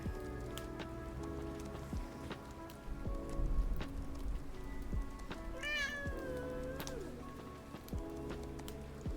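A young kitten meows once in a rising, drawn-out cry, close by, over a steady patter of rain and faint background noise.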